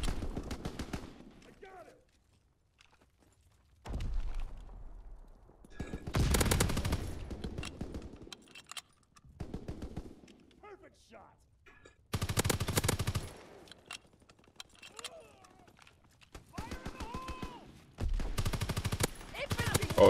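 Bursts of automatic gunfire and single shots in Call of Duty WW2, arriving in several loud clusters with quiet gaps between them, mixed with faint in-game radio callouts.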